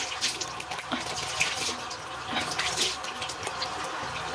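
Tap water runs steadily into a sink while someone rinses cleanser off their face, a continuous close splashing with small spatters and no talk.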